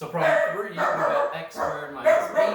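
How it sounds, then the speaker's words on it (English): A dog barks and yips at home during an online algebra lesson, several short sharp barks in a row close by, heard beneath someone speaking through a math problem. "that's my dog, sorry"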